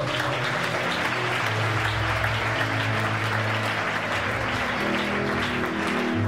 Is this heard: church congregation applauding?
yes